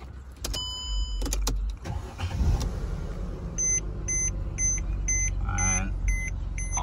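A Mercedes-Benz car engine cranks and starts after a fuel injector replacement, then settles into a steady idle, with a few electronic beeps and chimes sounding over the running engine near the end.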